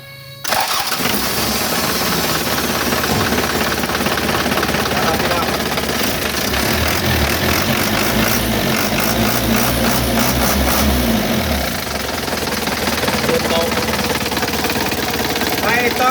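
An Isuzu NPR115 truck's diesel engine cranks and catches after a brief quiet start, then settles into a loud, steady idle with a constant low rumble and rattle that continues to the end.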